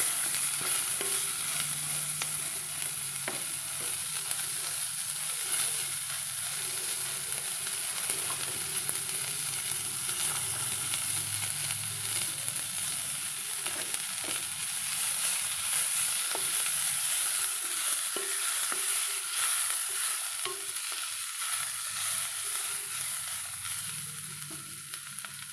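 Onions frying in a pan for Kongunadu-style cauliflower kuruma, with a steady broadband sizzle and occasional scraping stirs running continuously throughout, no voices.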